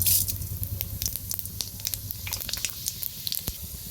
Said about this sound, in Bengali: দেখো তেল গরম হয়ে গেছে এবার দেবো পাঁচ ফোড়ন